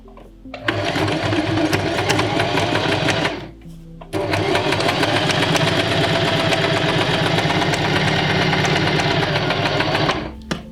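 A sewing machine stitching a dart at a 2.5 stitch length runs in a loud, close, steady whirring burst, stops briefly, then runs again for a longer continuous stretch before halting.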